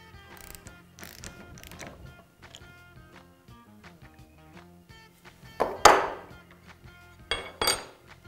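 A ratchet or torque wrench tightening the cartridge center bolt of a WP AER motorcycle fork, giving quiet mechanical clicks and clinks with a few louder metallic bursts near the end, close up and without talk.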